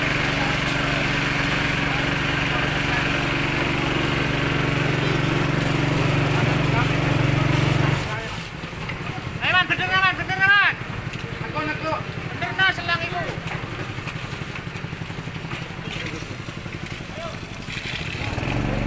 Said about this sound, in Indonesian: sudah datang motornya.